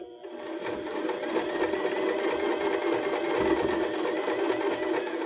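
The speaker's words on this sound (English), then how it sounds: "And just keep going, sewing straight across that join." Baby Lock BL9 sewing machine fitted with a zipper foot stitching trim into a seam, running in a steady, continuous mechanical whir close by with no talking.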